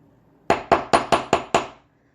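Six light, evenly spaced hammer taps ring out close by as 18 gauge wire is straightened for earrings. Each sharp strike has a short metallic decay, and the room falls quiet after the last one.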